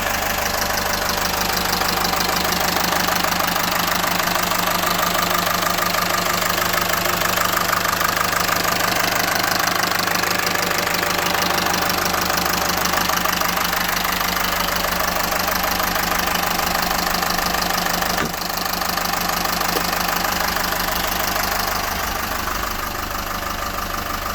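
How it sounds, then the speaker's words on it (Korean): A Hyundai New County long-body 25-seat bus engine idles with its engine cover open, a loud, steady diesel clatter with a constant knocking rhythm and low hum running unbroken throughout. "지금 제가 이제 엔진을 뚜껑을 열어놨습니다 한번 직접 보여드릴게요"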